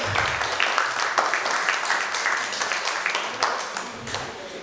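Audience applause at a corporate retail talent roundtable, a steady wash of many hands clapping throughout, fairly loud and continuous with faint voices mixed in.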